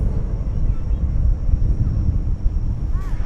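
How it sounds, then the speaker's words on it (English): An American Airlines Airbus A380 passes at DFW Airport as a steady, broadband jet roar with heavy low rumble and wind buffeting the microphone throughout. "That was Flight 1406, American Airlines to San Antonio, Texas, an Airbus A380."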